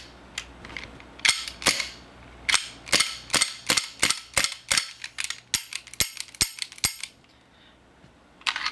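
An airsoft Taurus PT99 pistol fires on full auto in a rapid string of sharp, close cracks that gradually space out and weaken as the gas runs low, ending in one last isolated shot.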